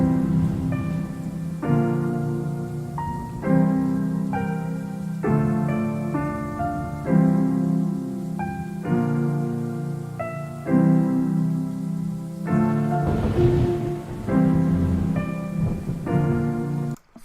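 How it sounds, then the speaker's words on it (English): Rain effect layered into a music beat, a steady soft patter running beneath repeating bright synth or piano chords and a low bass line throughout. "the sound of the rain here is a nice effect"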